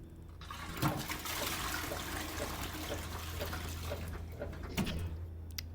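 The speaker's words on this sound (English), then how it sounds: "And then we also have the science fiction toilet flush" A science-fiction-style toilet flush sound effect plays as a steady, full rush of water that holds at the same loudness for several seconds, with a low pump-like hum underneath and a few faint clicks.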